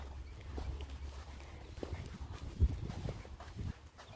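A horse walks slowly while being led on a walk, its hooves giving soft, uneven thuds close by over a low steady rumble, with one sharper knock midway.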